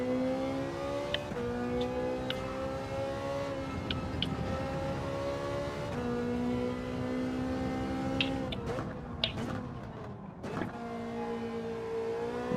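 A race car engine in Gran Turismo 7 drones at steady high revs with shifting tones as gears change, loud and continuous with faint clicks over it.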